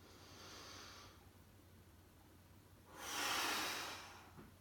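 Two long, forceful breaths through the mouth during a dumbbell press, one softer and one louder hissing exhale, close up and with no talking.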